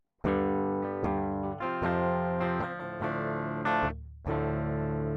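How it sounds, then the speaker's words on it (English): Distorted electric guitar chords ring out loud and close, struck several times in an uneven rhythm with brief gaps between them. "I've got some guitar sound."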